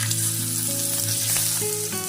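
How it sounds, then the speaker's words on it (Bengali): Oil in a frying pan sizzles steadily and close up, a continuous crackling hiss with faint tonal hum underneath and no voices. "ফ্রাই প্যানে তেল দিয়ে দিলাম"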